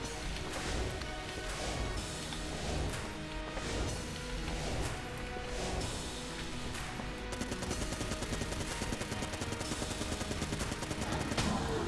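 Dense, continuous gunfire from an assault cannon in the video game Enter the Gungeon, with heavy rapid bursts and crashing impacts, loud and busy throughout, with no talking.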